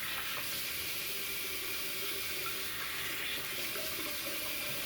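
A bathroom tap runs steadily while a man wets his face before shaving with a Merkur Progress adjustable safety razor. The water makes a loud, continuous splashing hiss from start to finish with no talking.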